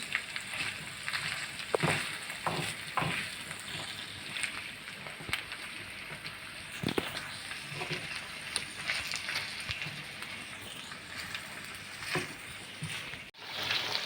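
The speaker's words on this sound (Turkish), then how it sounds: "Evet etimiz çok güzel bir şekilde pişmeye devam ediyor. Sesi duyabiliyorsunuz arkadaşlar." Meat and peppers sizzling in a saç pan, a steady soft hiss of frying with scattered crackles and pops, fairly quiet and unbroken, no voices.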